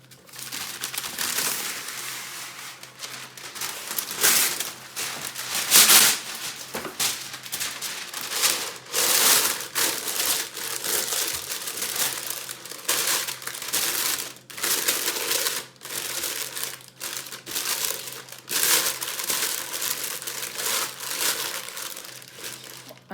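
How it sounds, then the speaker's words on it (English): Greaseproof paper crumpled and scrunched by hand to line a loaf tin for banana bread, a long run of loud, close crinkling and rustling bursts with brief pauses. "line it with some greaseproof paper"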